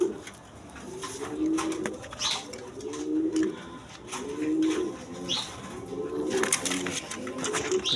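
Pigeons for sale coo in a steady rhythm of repeated throaty, rolling calls, close and fairly loud, with faint chirps and background noise around them.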